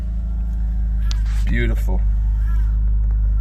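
A BMW E93 engine idles steadily after a mass airflow sensor fix, a low constant hum running throughout, with someone speaking briefly over it.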